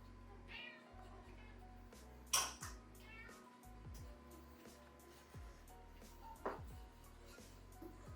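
A cat meows twice, a few seconds apart, over a steady background hum with faint clatter; the calls are moderately close but not loud.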